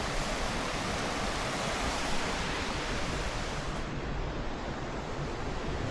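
A mountain river in Mostar, Bosnia, pours past with a constant, loud broadband rush, close and uninterrupted from start to end, with no talking.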